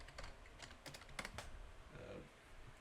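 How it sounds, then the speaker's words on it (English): Computer keyboard typing: quick clusters of light, crisp key clicks in uneven bursts, close to the mic and fairly quiet, with no talking over it. "I'm pretty sure you can hear my keyboard."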